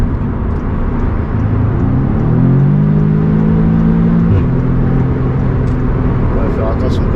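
An Audi S3 8V engine accelerates, its loud rising drone swelling and holding under the steady rush of road and cabin noise, while someone talks over it.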